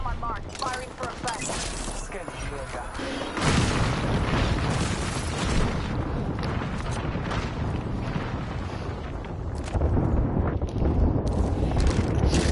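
Artillery strike explosions in the video game Apex Legends, a dense, continuous rumble of heavy booms and bursts that swells after a few seconds and stays loud, with no pauses between impacts.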